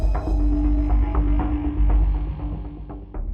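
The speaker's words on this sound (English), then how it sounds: "a low hum begins to scratch your ears" A low, mysterious droning hum in the style of the Taos hum throbs steadily, loud and close, with a faint higher tone riding above it and soft pulsing swells, no voices.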